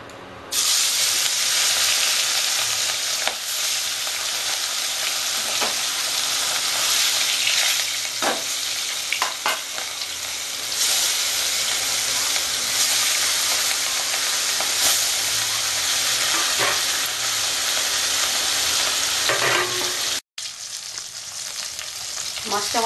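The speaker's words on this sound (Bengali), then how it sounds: "মাছটা আমার ভাজা হয়ে গেছে" Fish sizzles steadily in a generous amount of hot oil for a Bengali-style fish curry, a dense continuous frying hiss with a few crackles and no talking.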